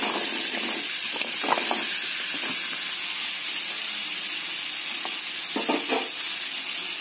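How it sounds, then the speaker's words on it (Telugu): Radish slices fry in oil in a pan over a medium flame, giving a steady, close hissing sizzle throughout, with occasional soft scraping stirs. "ఒక 3 నిమిషస్ పాటు ఈ ముల్లంగిని మీడియం ఫ్లేమ్ లో ఫ్రై చేసుకోవాలి"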